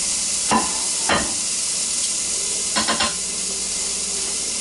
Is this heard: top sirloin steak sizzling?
yes